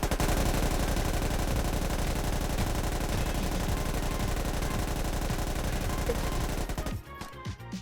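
Sustained machine gun fire from two gunners in the video game Squad, a loud, dense stream of rapid shots lasting about seven seconds before cutting off abruptly.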